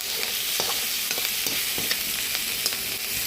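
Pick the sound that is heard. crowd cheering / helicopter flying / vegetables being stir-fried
vegetables being stir-fried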